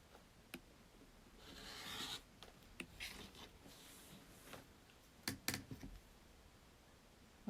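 Rotary or blade cutting through a denim fabric strip guided along a quilting ruler, a few faint rasping strokes with light ruler taps, quiet and close with no talking.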